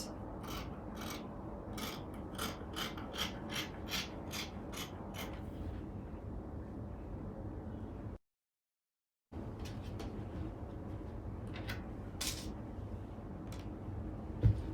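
Scissors cutting through fabric for a sewn shift gown, giving steady rasping snips and sliding blade sounds up close with a brief gap of silence midway.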